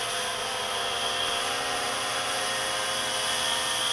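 A Walkera X350 Pro quadcopter drone on its landing descent gives a loud, steady, high-pitched whine of spinning rotors. It is close and unbroken, with no voices.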